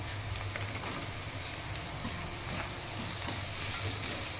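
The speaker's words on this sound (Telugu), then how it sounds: "మిల్లీ మేకర్ కూడా బాగా ఫ్రై కావాలి ఆయిల్లో." Soya chunks (meal maker) frying in oil over cooked onions in a pan, a dense continuous crackling sizzle with scattered pops, steady and fairly close, no voices.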